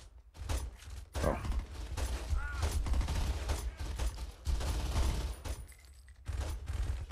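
Gunfire in Saints Row 2 comes as dense, sustained bursts of automatic fire with short pauses between volleys, loud and close, while a player lets out a brief exclamation.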